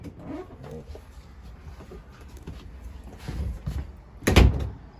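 A bedroom door in a 2008 Bayridge 38CBD travel trailer swings open, with soft handling noise followed by a louder knock or bump near the end, close by and without talk.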